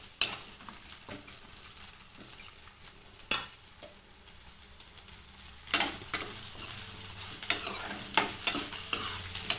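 Onions frying for tomato pachadi, sizzling steadily in a pan while a utensil stirs and scrapes them in bursts, with sharper clatters of metal against the pan now and then, close and alone with no talk.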